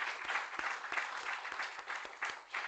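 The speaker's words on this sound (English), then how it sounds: "Let's give them a round of applause." An audience at an anniversary gathering in New York gives a short, steady round of applause for two directors, fairly faint and distant, with no talk over it.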